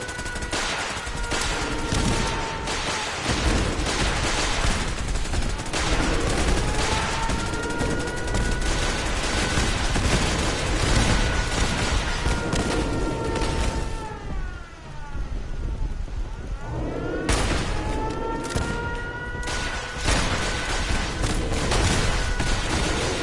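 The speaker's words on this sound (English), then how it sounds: "I don't know why all the turrets are engaging." Turrets firing in Fallout 4: loud, continuous rapid gunfire with a wailing siren-like tone rising and falling over it, barely easing for a moment midway before resuming.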